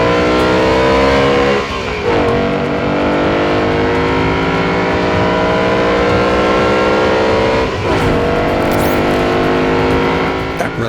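A BMW E90 M3 and an Audi B7 RS4 launch together in a drag race, loud engines revving hard and climbing through the gears with brief dips at each shift, close and continuous.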